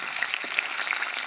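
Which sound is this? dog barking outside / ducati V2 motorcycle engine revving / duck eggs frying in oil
duck eggs frying in oil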